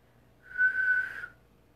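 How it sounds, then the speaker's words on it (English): A single steady, high-pitched whistle blown for about a second, clear and close, then stopping. "she blew upon a silver whistle that hung around her neck"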